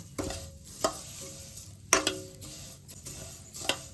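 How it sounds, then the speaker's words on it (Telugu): Vermicelli (semiya) frying in ghee over a low stove flame, soft sizzling under sharp intermittent scrapes and clinks of a spoon against the pan, close up with no voices. "స్టవ్ లో ఫ్లేమ్లో పెట్టుకుని చక్కగా ఈ నెయ్యిలో ఈ సేమియాలు వేయించుకోవాలి"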